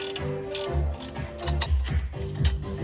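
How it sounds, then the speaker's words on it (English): A ratchet wrench clicks rapidly while removing a 12 mm bolt during a lift install on a 2025 Toyota Land Cruiser, with repeated close, sharp bursts of ratcheting. "Now remove this bolt right there, and it is going to be a 12 millimeter bolt."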